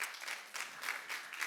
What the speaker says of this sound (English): please a little bit applause for Rainer.